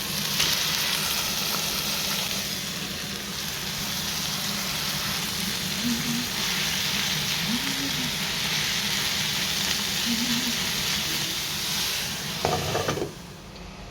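Mushrooms fry in a pan with rinsed sauerkraut added, giving a steady, close sizzle and hiss throughout, with a brief clatter near the end.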